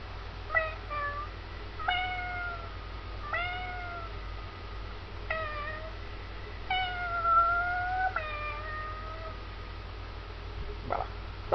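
A human voice imitates a cat, giving about six drawn-out meows spread evenly through the clip, each a wavering rising-falling cry, close and clear, with one short sharp sound near the end.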